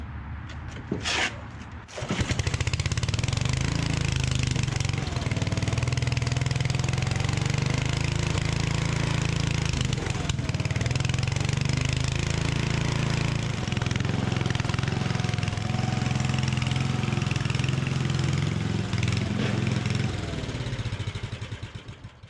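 An old Ferguson 35 tractor engine sputters to life after a brief crank, then settles into a steady, loud, rumbling idle that runs on without pause.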